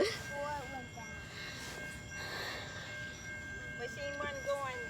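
Two CSX freight trains meet and pass in Riverdale, heard as a steady distant rumble with a faint high whistle tone and light clatter, under the low murmur of nearby people.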